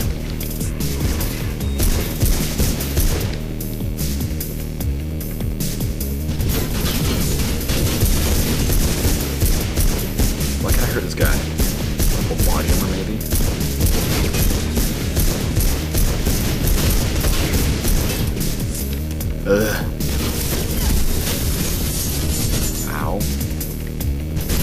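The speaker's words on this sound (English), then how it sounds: "they have a goddamn machine gun" Sustained gunfire and explosive booms from a machine gun in the video game Mirror's Edge fill the whole stretch, dense and loud with rapid bursts layered over one another.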